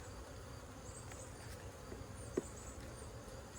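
Honey bees buzz steadily around a hive as frames are shaken off during an inspection, a dense low insect hum filling the whole stretch with one brief louder knock partway through.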